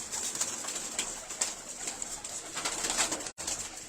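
Caged pigeons offered for sale coo repeatedly nearby, low, rounded calls recurring at a steady pace over faint background rustle, briefly cut by a sharp click near the end.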